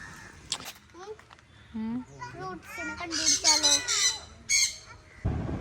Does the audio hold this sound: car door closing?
no